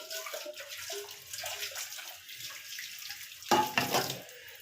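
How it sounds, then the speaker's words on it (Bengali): Tap water splashes into a bowl being rinsed while a cold bel fruit drink is made at home, a soft running stream with a louder gush near the end, and no talk. "আর একটু জল ধুয়ে দেবো বাটিটা থেকে।"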